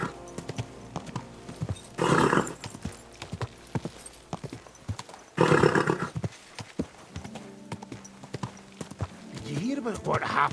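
Horse hooves clip-clopping at a run in a medieval video game, steady close hoofbeats with two loud neighs, while voices talk over the ride.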